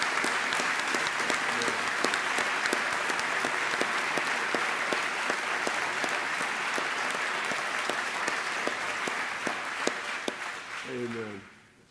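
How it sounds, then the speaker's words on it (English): Sustained audience applause at an award ceremony for a nursing award, dense steady clapping from a large crowd that fades near the end as a voice begins. "why do they keep clapping?"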